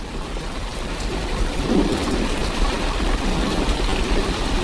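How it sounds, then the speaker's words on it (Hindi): Rain mixed with hail falls heavily in a cartoon storm, a continuous loud roar of pelting drops with a low thunderous rumble and no voices. "कुछ ही देर में बारिश के साथ साथ ओले भी गिरने लगते हैं"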